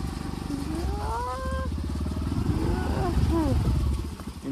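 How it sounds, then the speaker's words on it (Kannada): A motorcycle travelling a muddy rural road in the rain produces a close, steady engine drone whose pitch rises and falls, with a voice heard over it. "ಒಂದ ಕೈಲಿ ಗಾಡಿ ಓಡಾಕತ್ತ."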